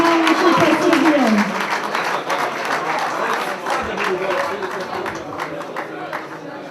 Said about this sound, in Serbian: Molim vas da nagradimo još jednim velikim aplauzom najbolje seniorke pištolje na finalu Kupa Srbije.